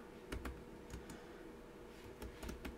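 Keys on a computer keyboard are tapped in short clusters while a command is entered, each press a light, close click with brief pauses in between, over a quiet room hum.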